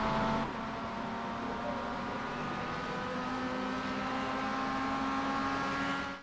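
Mazda MX5 race car engine droning steadily under acceleration at Spa in an iRacing production car race, a sustained mid-level tonal hum with rising harmonics and no talking.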